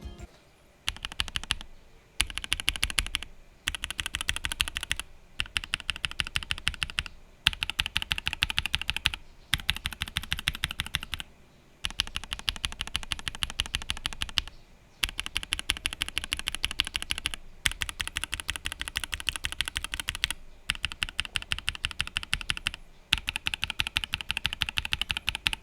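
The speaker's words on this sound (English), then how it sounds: "So let's now compare the sound profile to my other favorite linear switches" Typing on Gateron Oil King linear mechanical keyboard switches, a steady run of close, rapid clacking keystrokes in bursts of a few seconds separated by short pauses, with no talk over it.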